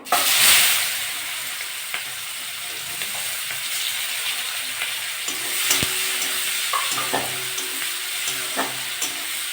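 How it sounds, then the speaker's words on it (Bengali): Onions frying in oil with tempered dried chilli and cumin, a steady close hiss and crackle of sizzling with occasional stirring taps against the pan. "পেঁয়াজটা একটু লাল লাল ভেজে নেব"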